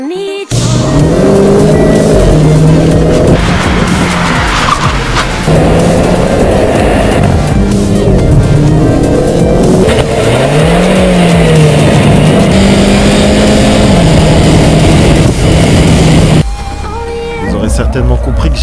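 A Renault Clio 4 RS 200 EDC Chassis Cup is driven fast, its engine revving up and down loudly through quick gear changes, close and continuous with a voice talking over it.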